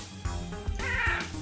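A Maine Coon cat meows in a drawn-out, wavering call lasting about a second, close and fairly loud, with a softer vocal murmur leading into it.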